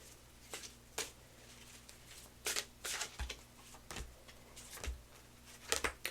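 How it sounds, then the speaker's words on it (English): A deck of cards is shuffled by hand, producing a series of crisp riffling bursts and soft taps at irregular intervals, close and fairly quiet over a faint steady room hum. "I wonder if it is when I shuffle the deck."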